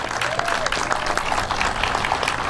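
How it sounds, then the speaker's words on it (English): Audience applause at a groundbreaking ceremony for a Humboldt Park passive-living building, a steady wash of many hands clapping at moderate loudness, with a faint voice or two mixed in. "Give AJ Patton a round of applause as well."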